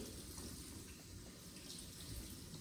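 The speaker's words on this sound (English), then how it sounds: "I'm gonna run this running cold water and kind of use my hands to lift up and get all the fruit nice and clean" Cold water runs steadily from a kitchen tap over fruit being rinsed by hand for frozen yogurt bites, a soft constant hiss of flow that stays even and faint throughout, with no talk.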